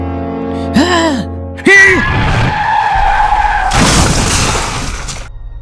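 A car skids and crashes as a sound effect, with a sharp screech, a heavy impact and a noisy burst of crash debris, loud and close, alongside a brief vocal gasp and groan.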